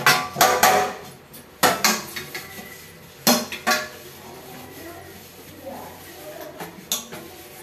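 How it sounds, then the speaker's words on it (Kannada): Pots and dishes being washed at home, with repeated sharp clanks and knocks of metal vessels in irregular bursts, some louder than others, followed by quieter handling sounds. "ಪಾತ್ರೆ ಎಲ್ಲ ಬೆಳಗಾಯ್ತು,"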